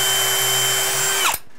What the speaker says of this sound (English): I'm going to pre-drill in through here